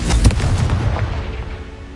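A Confringo fire-blast spell from Hogwarts Legacy bursts with a loud booming explosion near the start, followed by a rumbling, crackling decay that fades over the next two seconds, with no voices.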